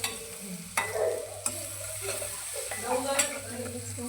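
Green chili and ground garlic crackle in hot tempering oil, a close, even sizzle punctuated by a few sharp spatula clicks against the pan.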